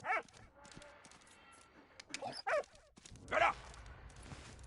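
Dog barking in the WWI video game Valiant Hearts, a few sharp barks in bursts scattered across the clip amid game sounds, with a person talking over them.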